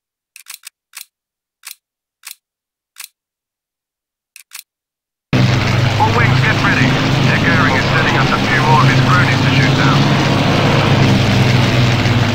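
WWII bombers over London in the Battle of Britain game Combat Wings: after a few sharp clicks in silence, a loud, steady roar of piston aircraft engines drones on continuously.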